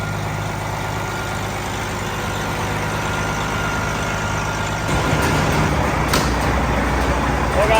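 Cabover truck engine idling and rattling inside a shop, a steady loud diesel drone that grows rougher and busier after a few seconds, with scattered clanks and no speech.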